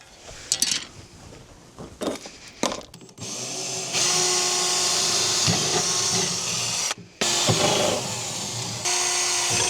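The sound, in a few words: drilling a hole in the canopy base plate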